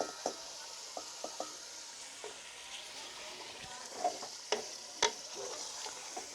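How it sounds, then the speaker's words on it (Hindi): A spoon stirs potatoes and fresh beans in a pan of sabzi, soft scraping strokes and a few sharp clinks against the pan over a low, steady sizzle, heard alone and close. "इसको जो है ना मिक्स करेंगे चम्मच की मदद से"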